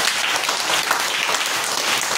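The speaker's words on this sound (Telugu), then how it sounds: "క్లాప్స్ కొట్టండి." Schoolchildren in a classroom break into steady, dense clapping at a teacher's request, a close, continuous patter of many hands that holds evenly for a couple of seconds with no talk over it.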